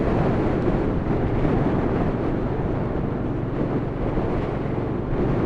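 A gale blows hard and steadily, a loud, continuous rumbling roar of wind buffeting the microphone with no breaks and no voices.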